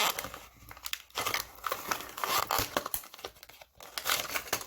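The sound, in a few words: tearing a piece of adhesive tape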